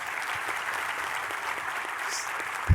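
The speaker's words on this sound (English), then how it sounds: "How about a round of applause for our panelists?" An audience applauds a young craft professionals panel with steady, dense clapping that holds evenly throughout, with one sharp thump near the end.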